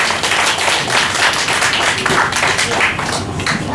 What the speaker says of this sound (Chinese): 请掌声有请。